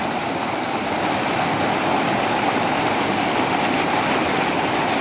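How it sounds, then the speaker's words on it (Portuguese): The Salgado river near Icó, Ceará, runs in flood toward the Castanhão reservoir, making a loud, constant rushing roar of moving water with no talk over it. "Bastante água ainda aí, ó. Descendo com o açude Castanhão."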